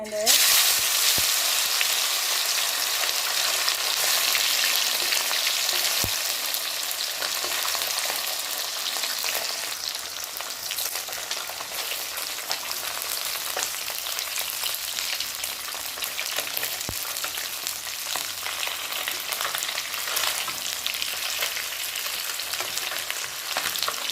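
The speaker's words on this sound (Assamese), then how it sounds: "এতিয়া এখন কেৰাহীত তেল অলপ গৰম কৰি মাছখিনি ফ্ৰাই কৰি ল'ম।" Fish pieces rubbed with salt and turmeric fry in hot oil in a wok, giving a loud, dense, steady sizzle that runs throughout with occasional sharp pops and stirring sounds, no talk.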